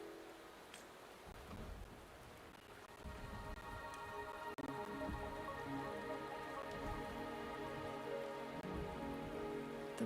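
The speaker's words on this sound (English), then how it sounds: "The rain is subsiding" Steady rain falls on surfaces as a dense, continuous hiss, with a faint low rumble that may be distant thunder and no voices.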